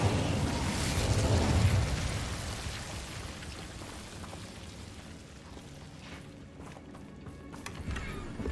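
An Incendio fire spell goes off in Hogwarts Legacy with a loud whooshing burst of flame at the start that fades into a crackling, rumbling tail, with no one talking.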